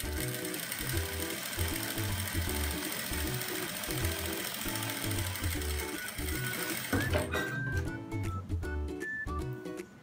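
Sewing machine running steadily at close range with a fast rhythmic stitching rattle for about seven seconds, then shorter stop-and-start bursts as it backstitches at the end of the seam.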